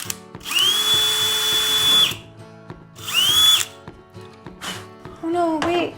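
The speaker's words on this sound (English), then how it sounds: "Drilling holes in the tub." A power drill bores holes into a bathtub in loud whining bursts that rise and hold, separated by pauses, with light clattering and a little voice in the background.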